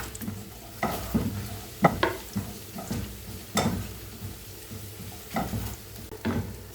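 Beef and vegetables sautéed in a pan, with a steady sizzle broken by repeated scraping stirs and clinks of a utensil against the metal, close and fairly loud, with no voices.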